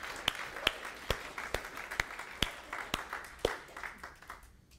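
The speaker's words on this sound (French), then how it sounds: "On va applaudir le Seigneur." A church congregation claps at a sermon, sharp distinct claps landing in a fairly even rhythm, faint and echoing, gradually fading out.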